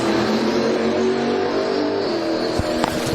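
An LS twin-turbo Malibu on a drag racing run at a drag strip: a loud, sustained engine roar holding steady throughout, with a couple of sharp pops near the end, close to the mic.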